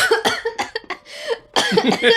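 A close, sharp fit of coughing, several quick coughs in a row with a short pause before another burst.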